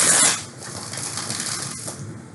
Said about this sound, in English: One more shuffling.